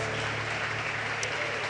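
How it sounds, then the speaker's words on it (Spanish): Congregation at a church service claps for the Lord in a steady, moderately faint wash of applause with a low hum beneath, lasting under two seconds. "¿Por qué no le da un fuerte aplauso al Señor esta mañana?"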